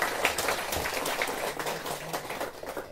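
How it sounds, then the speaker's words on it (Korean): An audience at a Buddhist lecture at Woljeongsa breaks into applause, a dense, steady patter of many hands clapping throughout. "박수 한번 쳐주세요."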